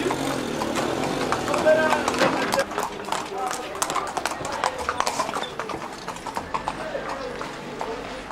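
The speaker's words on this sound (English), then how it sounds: "she rides the traditional Marrakesh public transport, carefully manoeuvred by Hamid, who knows the narrow streets as well as he knows his horses." Horse hooves clip-clop steadily as a horse-drawn carriage moves through the narrow streets of Marrakesh, the rhythmic clatter running under continuous narration.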